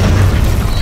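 A shotgun blast in the Deadpool video game gives a loud, close, heavy boom with a deep low-end punch, a single short burst lasting under a second.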